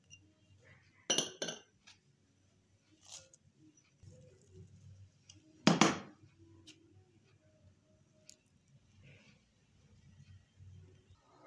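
Ingredients for dahi bhalla are mixed in a bowl, with a few sharp clinks and scrapes of a utensil against the bowl separated by quiet gaps and faint background sounds.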